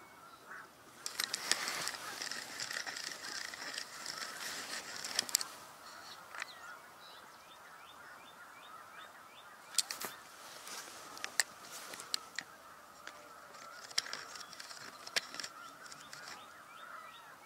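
A flock of snow geese honks faintly and at a distance in scattered, overlapping calls, with bursts of louder honking breaking through now and then.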